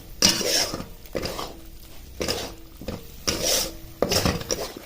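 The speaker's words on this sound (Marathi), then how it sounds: "हे जे कोरडे मसाले पावडरचे ते ह्या वाटणामध्ये चांगल्या प्रकारे मिक्स करून घ्यायचे" Spoon stirring dry masala powder into a ground spice paste in a pot, a close scraping and clinking that repeats in roughly one-second strokes with no talking.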